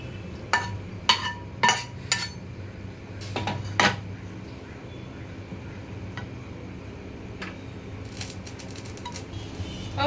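Cooked ghevda bhaji being scraped from a pan into a dish, heard as several sharp metal clinks and scrapes of a spoon against the pan, then a quieter stretch with a few light taps.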